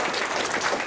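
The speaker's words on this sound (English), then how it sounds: "Give him a round of applause on that" A short burst of audience clapping at a business meetup, brief and fairly loud, cut off after about a second.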